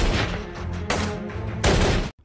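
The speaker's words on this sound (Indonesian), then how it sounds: "Pascal yang masih hidup seketika menembak Chen." A film shootout with loud bursts of gunfire, one heavy volley early, another after a pause, then a final blast cutting abruptly to silence, with no talk.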